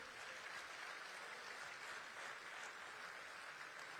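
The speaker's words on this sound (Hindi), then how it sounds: "तो जोरदार तालियों से मंच पर स्वागत कीजिए" A hall audience claps to welcome Ustad Shujaat Husain Khan onto the stage at the Lokmat Sur Jyotsna awards, giving a continuous, even wash of applause that sounds faint and distant.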